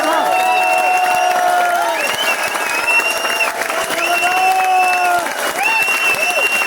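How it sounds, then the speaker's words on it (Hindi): A large audience at an Asclepius Wellness company event applauds steadily and loudly throughout, with scattered cheers and whoops rising above the dense clapping. "अभी तक की सबसे धमाकेदार और शानदार तालियां होना चाहिए"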